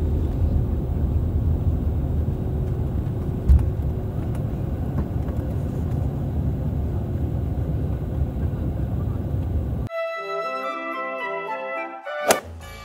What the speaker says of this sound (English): This is genuinely the volume inside the aircraft during takeoff.